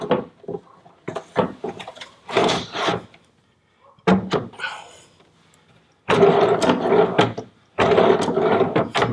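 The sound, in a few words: drawer on slides being installed and closed in cabinet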